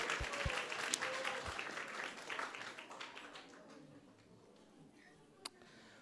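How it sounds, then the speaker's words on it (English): An audience applauds after a spiritual discourse, a fairly faint patter of clapping that thins and fades over several seconds, with a few louder single claps standing out. "let's give a big round of applause and thank him"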